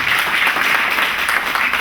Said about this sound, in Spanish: Otro aplauso para Cristian